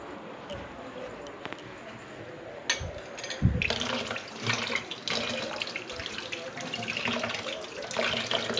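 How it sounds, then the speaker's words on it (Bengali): Dishes being washed under a running kitchen tap, a steady broad wash of flowing water with clinks and splashes, louder after a few seconds, with a voice faintly in the background. "এটা আমি ধোবো এখন।"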